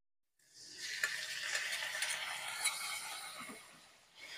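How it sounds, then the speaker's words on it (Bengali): Spice paste, salt and turmeric being stirred into koi fish curry in a hot pan, a steady sizzle with scraping utensil clicks and taps, moderately close, no talking. "সবকিছু খুব ভালো করে নাড়াচাড়া করে নেব।"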